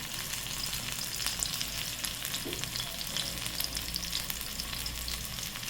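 Garlic sizzles and fries in hot oil in a pan, the base for a bitter gourd masala, giving a steady, close crackling hiss with light scattered pops throughout.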